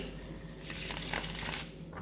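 Close, papery riffling and flapping of cards being shuffled, a continuous rustling burst over a low background hum.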